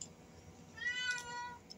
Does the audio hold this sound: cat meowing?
yes